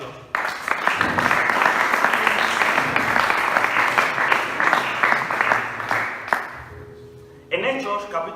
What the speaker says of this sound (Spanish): Fuerte el aplauso que es para Dios.